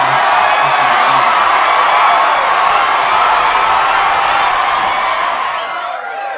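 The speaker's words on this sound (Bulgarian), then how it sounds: "Аплодисменти. Аплодисменти." A game-show style crowd cheers and applauds loudly and steadily, a dense wash of clapping and whoops that holds for several seconds and eases off slightly at the end.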